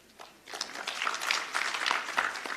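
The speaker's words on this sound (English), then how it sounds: "You are clapping" An audience clapping at a speech, a dense burst of applause that starts suddenly after a quiet moment and keeps going steadily at moderate loudness, heard from within the hall.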